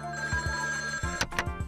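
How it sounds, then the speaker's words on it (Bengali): A telephone bell rings in repeated short bursts with a clear tonal ring, loud and close, over a steady background hum. "তোমার মাঝি আবার ফোন করছে।"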